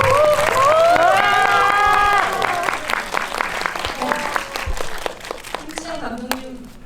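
A festival audience for a special guest visit event gives loud, dense applause that fades into scattered clapping, with voices audible over it.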